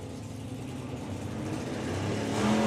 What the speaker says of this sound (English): Well, Ben's car hooks and goes to the wall.